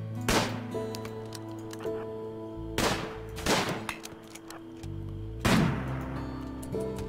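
Three heavy sniper rifle shots from the colony game RimWorld, spaced a couple of seconds apart, each a sharp crack with a long ringing tail over a steady musical background.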